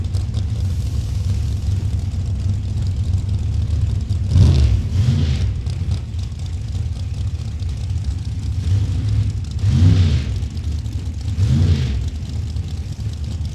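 Drag racing cars at a Lucas Oil series event in Indianapolis, including a Camaro, give off a steady low engine rumble from a distance, with three louder revving swells rising and fading through the roar and no talking.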